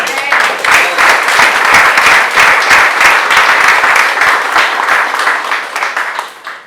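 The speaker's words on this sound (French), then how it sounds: "Give the Lord a round of applause" A church congregation applauding during a Sunday morning service, a loud, sustained wave of many hands clapping with some voices and cheers mixed in, tapering at the end.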